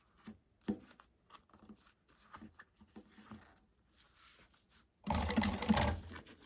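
A sewing machine stitches along the bottom edge, first in soft scattered taps and then in a louder steady run of stitching near the end.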